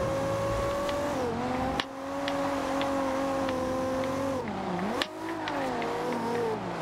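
An Audi engine drones steadily in the racing game Forza Horizon 2, a sustained tonal hum with the pitch dipping and rising as the car shifts and accelerates, broken by two brief sharp impacts.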